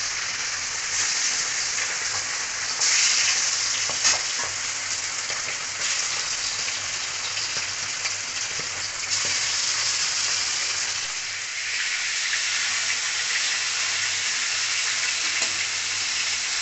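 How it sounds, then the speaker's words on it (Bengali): Rohu fish pieces frying in hot oil, a loud, continuous bright sizzle with crackling spits that holds steady throughout. "এই একে একে এরকম সব মাছগুলো এইভাবে ভাজে নেবো।"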